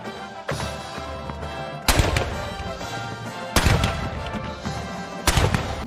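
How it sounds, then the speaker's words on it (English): Booming cannon shots used as a percussion instrument by a Marine Barracks Washington ensemble, four loud blasts landing at uneven intervals and each trailing off into a long rumbling decay. "Cannon! Yes, this is a percussion instrument."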